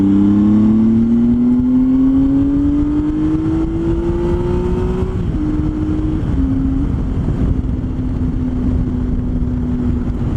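Triumph Tiger 800 motorcycle with an aftermarket can exhaust accelerating, a loud close engine note rising in pitch through a gear, then settling into a steady drone with wind noise.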